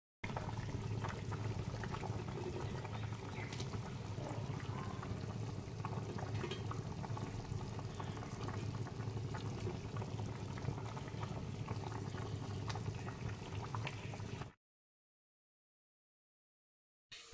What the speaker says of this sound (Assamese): এয়া চাওক মাছটো দিলোঁ, ধুনীয়াকৈ উতলিছে।